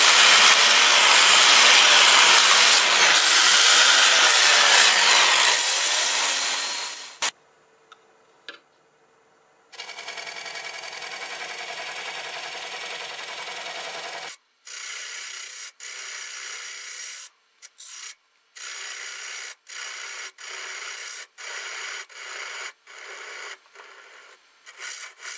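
Sandpaper from 80 to 400 grit rubs against a wooden turning spinning on a lathe, a loud continuous hiss at first, then quieter sanding in short intermittent passes with gaps.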